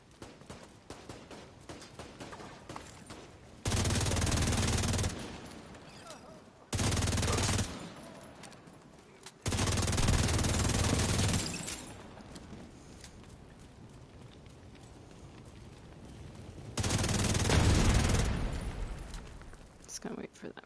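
Enemy minigun fire in a video game, four long sustained roaring bursts of rapid fire, each a few seconds, loud against a quieter background of game ambience, with a voice speaking between bursts.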